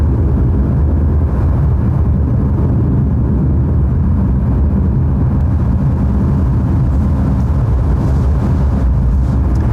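The BE3 rocket engine of a Blue Origin New Shepard booster fires during launch in West Texas, a loud, steady low rumbling roar heard from a distance with no letup.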